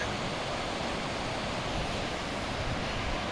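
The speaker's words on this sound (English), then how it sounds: "And then it shoots off, nice little tiny waterfall there. It's flowing pretty good." A mountain creek in Shohola, Pennsylvania, running over a small waterfall and swollen after rain, makes a steady, dense rushing wash that stays close and unbroken throughout.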